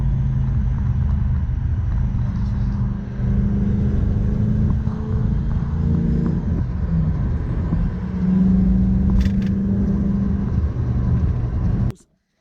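A 1UZ V8 Toyota Hilux pickup ute with a Gilmer drive runs close by, its deep engine rumble steady with slight revving swells, then cuts off abruptly at the end.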